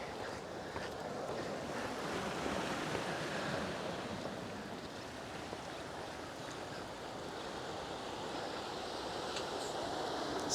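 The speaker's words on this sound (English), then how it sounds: "You can actually hear the waves, hear the water." Ocean waves wash onto the shore at South Kuta Beach in Bali, a steady rolling surf roar with wind noise buffeting the microphone, continuous and fairly distant with no voices.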